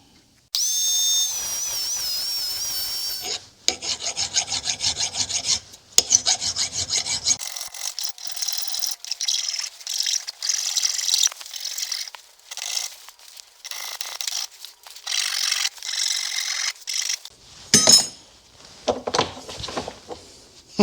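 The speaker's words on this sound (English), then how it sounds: "we'll chamfer these edges a little bit, about right there." A hand file chamfers metal edges on a car part for a 1971 Cadillac Deville, giving loud, close rasping strokes in repeated bursts with short pauses between them.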